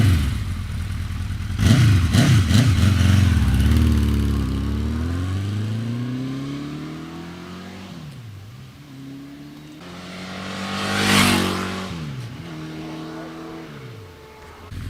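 A 1983 Honda CB1000C cruiser with a 1000cc superbike engine runs loudly and passes by, its revs rising and falling in sweeping waves with a louder surge midway.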